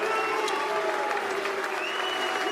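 Steady dense applause from a bowling crowd at the PBA US Open stepladder finals, continuous and fairly loud throughout with no break.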